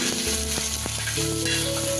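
Cumin, chili, peanuts and garlic roast on a tava, giving a steady dense sizzle with a few sharp ticks and clicks, close and fairly loud throughout with no voices.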